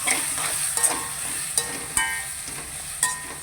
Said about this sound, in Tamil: போட்டு நல்லா வதக்குவோம்